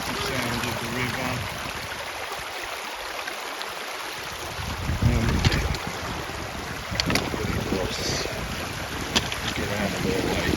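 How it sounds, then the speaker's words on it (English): A river in the Lake District rushes and splashes steadily with broadband watery hiss, at moderate loudness, while people talk over it and a few louder splashes come through. "Beautiful sound of the river."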